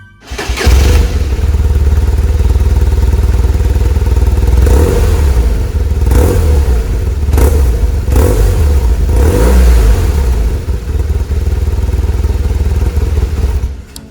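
A 2012 BMW R1200RT touring motorcycle, 35,000 km, fitted with engine and fairing guards, cranks and fires up, then settles into a loud, steady boxer-twin rumble with several sharp throttle blips, close up and with no talking.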